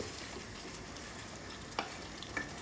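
Green chillies cooking in a pan with a splash of water, a faint steady sizzle and bubble with two brief scrapes of a spoon stirring, close by and quiet.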